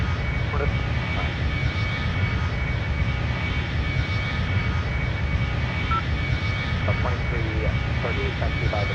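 Simulated airliner engines roar steadily through a takeoff run on runway 8 right, a continuous loud drone with faint radio chatter from air traffic control and pilots layered underneath.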